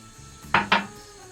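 Two quick, close clinks sound as a utensil knocks against a bowl while flour is mixed into almonds for a Turkish almond rose dessert, with quiet room noise around them.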